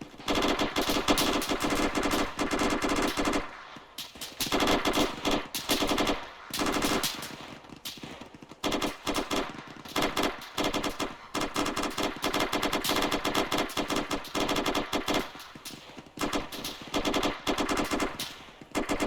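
Sustained bursts of automatic gunfire during army section training, dense rapid volleys that pause briefly and resume again and again, loud and close throughout with no voices audible.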